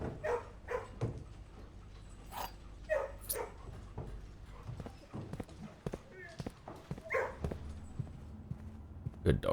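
Dogs bark and yip in the video game Blue Prince, short repeated barks scattered through the passage under and between a person talking.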